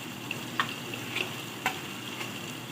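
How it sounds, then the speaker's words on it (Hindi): Chopped tomato frying with ginger-garlic masala in a pan, a quiet steady sizzle with a few light ticks and scrapes of stirring, no voices. "इसको अब भूनेंगे। मसाला हमारा अच्छी तरह भुन चुका है"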